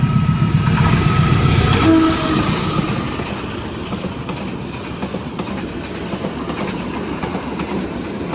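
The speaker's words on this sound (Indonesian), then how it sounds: "Ya itu dia kereta api Logawa dengan lokomotif white and blue" The Logawa passenger train, hauled by a white and blue locomotive, rumbles past loud and close with rhythmic clickety-clack of wheels on rail, a short horn note near the start, then a steady rolling roar.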